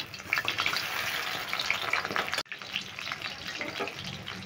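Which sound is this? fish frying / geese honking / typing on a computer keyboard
fish frying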